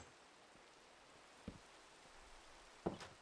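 Steady soft rain in modded Minecraft, a faint even patter throughout with a couple of brief louder clicks near the middle and end.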